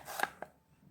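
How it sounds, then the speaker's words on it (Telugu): Raw mango being chopped into pieces on a board, two quick close knife chops in a second with nothing else around them. "మామిడికాయ ముక్కలు తరగడం అయిపోయింది"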